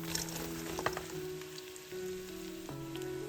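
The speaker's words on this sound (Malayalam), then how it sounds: "2 തണ്ട് കറിവേപ്പില എന്നിവ ചേർത്ത് ഏതാണ്ട് 5 മിനിറ്റോളം വഴറ്റുക." Sliced onion, halved green chillies and curry leaves sautéing in a pan for Kerala-style goat curry, giving a soft, continuous sizzle with a few faint stirring scrapes, heard alone and quietly.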